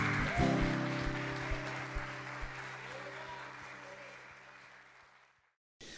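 A church congregation applauds during an Easter service, a dense wash of clapping with a few sharper claps at first and sustained tones underneath, gradually fading out before a sudden cut near the end.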